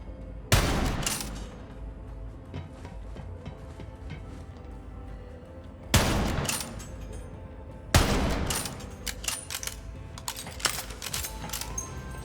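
Sniper rifle shots in Borderlands 3, with three loud, sharp reports, each followed by a decaying tail, the last one trailing into scattered clinks and clatter.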